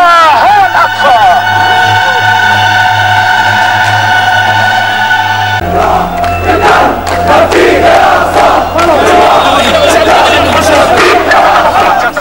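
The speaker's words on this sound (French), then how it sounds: "une foule de Palestiniens en colère déborde le cordon de sécurité et tente de lapider Sharon" An angry crowd of Palestinians shouts and roars while breaking through a security cordon, a loud dense mass of voices swelling into chaotic yelling with scattered cries.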